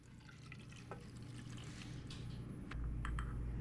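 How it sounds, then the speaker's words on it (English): Water is poured into a pan of cooking taco meat on a stovetop, giving a faint sizzling trickle with a few small splashes that builds to a fuller, louder hiss near the end. "We're gonna add 2/3 of a cup of water."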